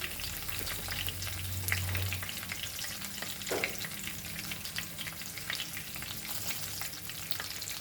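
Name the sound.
pinch of hing frying in oil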